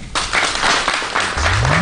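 An audience applauds at a health and environment event, a dense burst of clapping that holds steady at close range for under two seconds, ending as a low hum rises.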